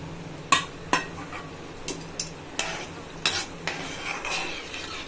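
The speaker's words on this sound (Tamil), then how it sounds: "நல்லா கலக்கி விட்டுருங்க இப்போ அது கொதிச்சுக்கிட்டே இருக்குது" Boiling pea masala in a roadside-cart style curry gets stirred with a utensil, giving several sharp scraping knocks against the pot over a low bubbling simmer; no voices.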